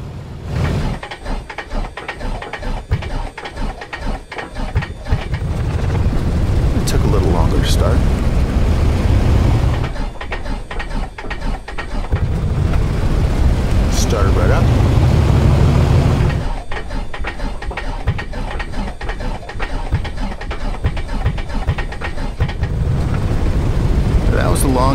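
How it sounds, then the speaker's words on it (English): A Piper Comanche 250 engine in Microsoft Flight Simulator starts three times back to back. Each start cranks into a loud, steady, rumbling run, separated by brief pauses, with someone talking over it. "Let me show you 3 engine starts back to back."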